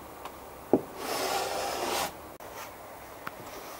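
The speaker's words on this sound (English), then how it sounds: "a varnish scraping tool takes it off in one swipe" A varnish scraping tool drawn across a sailboat deck, a single soft rasping swipe of about a second, quiet and close, with a few faint taps around it.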